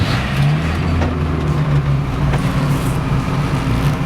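A Volkswagen T2 van engine runs with a low, steady rumble and slight revving, close and continuous for a few seconds with no talking.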